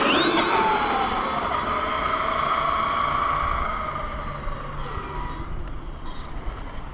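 Engine of a 5th scale Vigilante RC car running on its first outing, a loud sustained buzzing whine that holds steady then drops in pitch and fades somewhat as it settles, with no talking.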